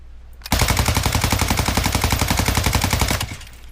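Rapid automatic gunfire from a Cronin in a shooter video game, a fast, evenly spaced burst of about thirty loud shots lasting nearly three seconds, then stopping.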